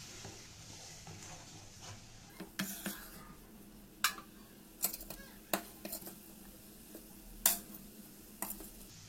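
Potato pieces dropped into a simmering Bengali tangra fish curry pot, with quiet bubbling under sharp, sparse clinks and taps of a utensil against the pot.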